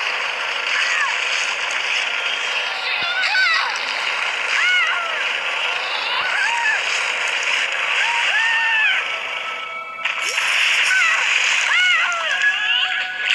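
Water splashing and sloshing as a shark enters a swimming pool in a shark video game, a steady wash of water noise with chirpy game sounds on top and a voice talking over it.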